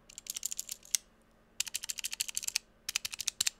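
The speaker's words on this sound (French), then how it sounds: "c'est un clavier spécial qui te permet de faire des macros" Clicky keystrokes on a programmable aluminium mechanical macro keyboard come in quick bursts with brief pauses, close and crisp in a quiet room.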